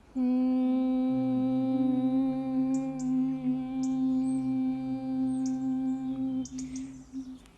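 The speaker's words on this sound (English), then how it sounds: "So this is the humming breath." A steady, sustained yoga humming breath on one pitch with a second lower tone joining, held for several seconds before fading into faint breath noise.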